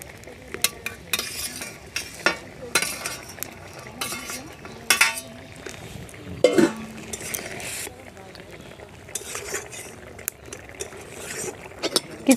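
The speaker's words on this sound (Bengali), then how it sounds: "এখন ভাজা পার্শে মাছগুলো দিয়ে দেব।" Fried parshe fish going into a boiling mustard curry in a pot: scattered clinks and scrapes of a utensil against the pot over a soft bubbling simmer, with brief louder knocks throughout.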